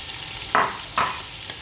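Onions frying in hot pork fat in a pan for an Indonesian stew, a steady broadband sizzle with two louder bursts as the pieces are stirred or tossed, no voices.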